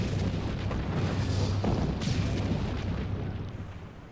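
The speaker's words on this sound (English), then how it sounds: "Got some cannons." Heavy booming cannon blasts in the video game Final Fantasy XIV, during a Leviathan battle at sea, roll together in a dense, loud barrage, with deep rumble throughout and a sharper crack near the middle.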